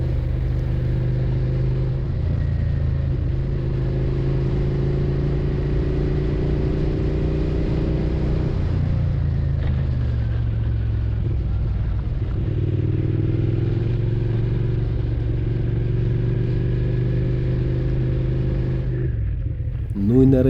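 A car driving along a rural road toward a lake quarry, heard from inside as a steady loud engine drone with rumble, pitch shifting slightly with speed and a brief bump near the end.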